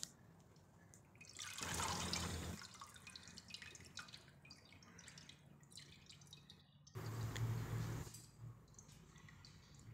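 Water drips and trickles from washed chicken pieces resting in a strainer, with a steady patter broken by two louder gushing bursts, close and without speech.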